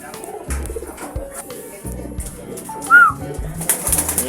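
Pigeons coo softly amid a busy background of shuffling and rustling, with a brief higher chirp partway through and some faint voices.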